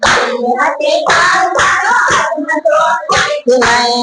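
Two-handed clapping beats a steady rhythm through a lively devotional chant, the singing voices loud and continuous over the claps.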